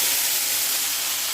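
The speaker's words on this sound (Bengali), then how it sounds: "এবার দেব তেলে মশলাটা, দেবো কালো জিরে ফোড়ন" Spice paste of ginger and dried red chilli with black cumin seeds hits hot oil in a pan and sizzles, a loud, steady, bright hiss with no pause and no voices.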